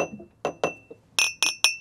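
Thick crystal whisky glasses clinking together, with a few duller knocks followed by three bright ringing clinks, close and distinct with short decays and no talk.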